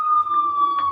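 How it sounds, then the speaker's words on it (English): A siren holds one steady, piercing wail for about a second, fairly loud, with faint background noise beneath it. "Sirens are on our end."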